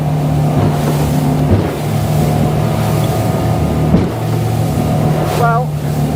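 An Aquaspirit 700 aluminium day boat runs at speed across long, slow swells, giving a steady, fairly loud engine drone with a low hum and constant rush of water and wind throughout.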